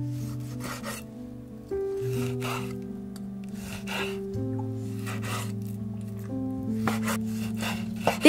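A knife slicing raw chicken breast into long strips about 1.5 cm wide, heard close as repeated scraping, rasping strokes against a board, with steady background music underneath.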